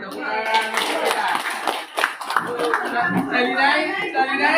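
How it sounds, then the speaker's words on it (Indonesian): A group of students at a school activity claps hands together, dense and lively over talking and chatter. "tepuk tangan untuk kita"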